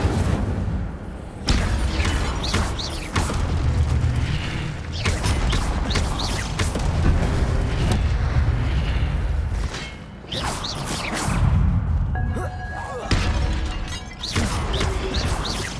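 Repeated Incendio fire spells in the video game Hogwarts Legacy burst out as loud whooshing blasts with crackling crashes, several dense bursts in quick succession with short dips between them.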